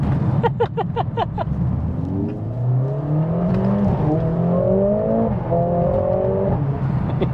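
A tuned Mercedes-AMG A45 S on the road, opening with a burst of rapid exhaust pops before the engine pulls hard through rising gears, revs climbing and shifting in a loud, close, continuous drone.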